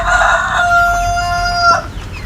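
A KUB chicken rooster crows once, loud and close, with its drawn-out call ending sharply, over a faint farmyard background.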